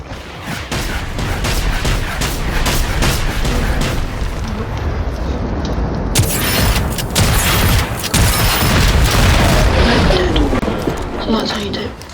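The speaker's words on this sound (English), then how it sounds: "with this shotgun, with the explosive rounds, it actually does stun them from their attack sometimes" Explosive shotgun rounds fire at robots in the video game Generation Zero, producing loud, dense, repeated booming blasts and crackling bursts that overlap almost continuously.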